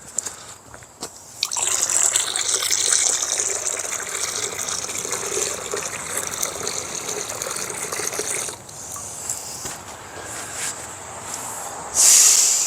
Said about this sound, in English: Go ahead and give it a good rinse.